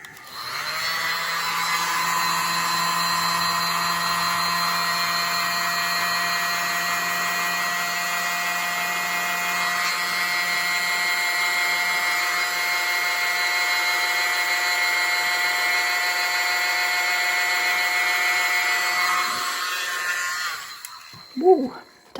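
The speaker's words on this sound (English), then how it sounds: "Use my mini blower." A small electric blower drying acrylic paint in a fluid-art pour gives a steady, close, high-pitched whine that runs unbroken for about twenty seconds, then cuts off with a brief clatter.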